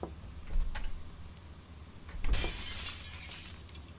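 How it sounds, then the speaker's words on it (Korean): Glass shatters loudly in a horror game, a sudden crash followed by a sustained bright spray of breaking shards, with a softer knock heard earlier. "또 뭐 깨졌어?"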